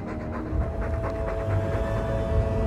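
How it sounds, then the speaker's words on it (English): A dog in Dragon Age 2 pants heavily and rhythmically, a steady close breathy sound that continues without pause. "All that noisy dog breath, day in, day out, make him stop."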